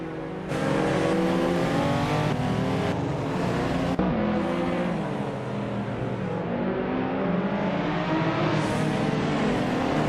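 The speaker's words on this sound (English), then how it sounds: "Just excited to watch these AI cars zoom around." AI-driven race cars in a racing video game, a 2001 Mosler MT900 among them, roaring loudly around a circuit with continuous engine drone, rising and falling revs and gear shifts, and no voices.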